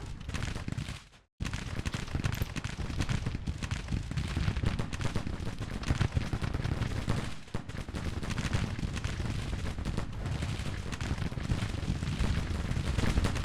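Dense, continuous gunfire from Grand Tactician: The Civil War, a Civil War strategy game: massed musket and volley fire rolls on without a break, loud and steady, with one brief dropout near the start.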